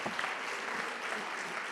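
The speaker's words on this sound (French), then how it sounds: "les applaudir très fort" Applause from a conference audience after a round-table talk, a faint, steady patter of clapping that runs through the whole short stretch without a break.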